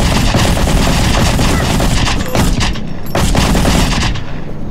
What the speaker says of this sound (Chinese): 好像我这把手枪好像有改造过的机关手枪